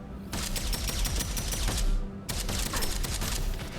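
Gunfire from the first-person shooter Deadzone Rogue: rapid, punchy bursts of shots in two long volleys separated by a brief pause, loud and close with no talking.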